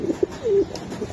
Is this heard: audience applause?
no